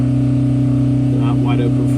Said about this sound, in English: we're on the dyno now with the engine that had the advance in it